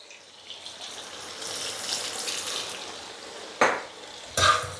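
Vegetables and pork stir-fried over high heat in a pan, a steady close sizzle with scraping stirs, ending in two sharp metallic clanks of the utensil against the pan.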